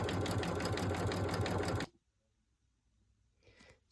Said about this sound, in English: So I'm going to leave that sewing while I get the next part of the apron ready.